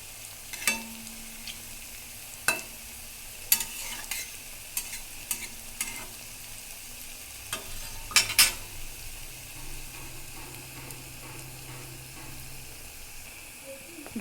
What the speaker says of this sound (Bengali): এবার কিন্তু আঁচটাকে বাড়িয়ে দিব, দিয়ে ভালো করে আর একটু লাল করে ভেজে নেব